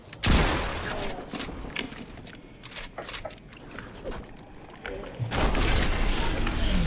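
An enemy fires at the player in a battle royale video game. Bursts of gunfire and booms are scattered across several seconds, with a heavier blast rumbling near the end.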